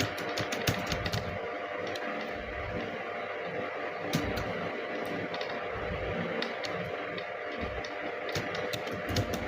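Fingers tap out a MySQL command on a computer keyboard, a steady run of close clicking keystrokes over a constant background hum, no speech.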